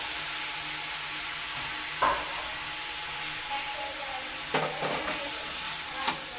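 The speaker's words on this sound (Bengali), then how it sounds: "রসুন আর আদা বাটাটা ভালো করে একটু ভেজে নেব" Garlic and ginger paste fries in oil after lightly browned onions, a soft steady hiss broken by a few brief scraping stirs and clicks.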